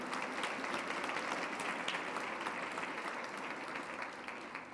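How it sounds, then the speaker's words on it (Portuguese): A church congregation claps together during a sermon, producing a sustained, fairly soft and distant wash of applause that stays even from start to finish. "Você pode aplaudir a Ele?"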